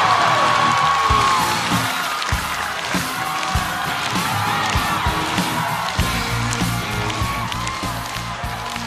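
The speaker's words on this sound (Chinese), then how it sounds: "掌声有请我的搭档王建国。" A comedy stage audience at a Chinese stand-up show claps and cheers loudly as a comedian walks on, a dense crowd roar with whoops that persists steadily.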